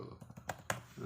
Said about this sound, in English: just hit the enter button.